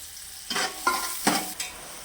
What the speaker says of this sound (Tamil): ப்ளஸ் நெக்ஸ்ட் ஆனியன் போட போறோம். இதை நல்லா வதக்கிக்கலாம்.